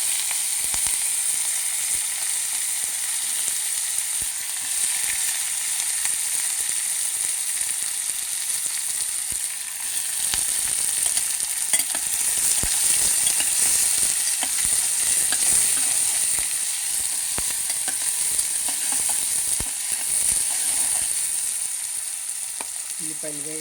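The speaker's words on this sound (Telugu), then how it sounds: "ఉల్లిపాయలు వేగాలండి, పచ్చిపచ్చిన పోవాలి, కొద్దిగా మెత్తపడాలన్నమాట." Onions sizzle in a pan with cumin seeds, a loud, dense, continuous frying hiss lasting the whole stretch with faint stirring scrapes and no voices.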